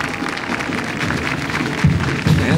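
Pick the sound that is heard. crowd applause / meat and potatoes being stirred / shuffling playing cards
crowd applause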